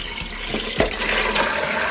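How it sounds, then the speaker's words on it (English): Soaked kidney beans (red peas) pour with water into a pot, making a steady close rush of liquid and splashing that lasts the whole moment, with a couple of soft thuds. "The peas washed 2-3 times from last night and is soaked, and I'm gonna just pour it in now."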